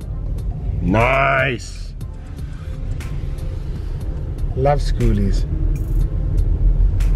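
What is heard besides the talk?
car driving around a beach campground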